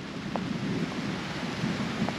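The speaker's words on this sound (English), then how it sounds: "The rain is coming down." A steady wash of rain pours down during a thunderstorm while hiking in the Florida Everglades. The hiss stays even and fairly near throughout, with no voices.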